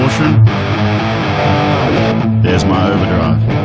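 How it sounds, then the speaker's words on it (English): Heavily distorted electric guitar through a Boss GT-1000 distortion effect plays sustained, crunchy chords and riffs, loud and alone, with a few quick changes between phrases. "There's my distortion."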